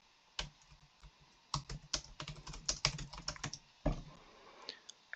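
Brisk typing on a computer keyboard as a search is entered into a website media library, with dense clusters of crisp keystrokes and short pauses between bursts, close and clear.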